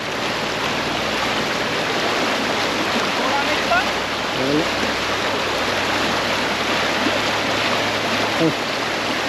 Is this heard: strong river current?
yes